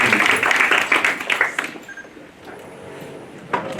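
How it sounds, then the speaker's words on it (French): Audience applause for a professor's presentation on innovation at a journalism conference. The clapping is moderately loud for about two seconds, then fades into quieter room noise with a brief burst near the end. "merci d'applaudir le professeur Baba Wabé pour sa présentation"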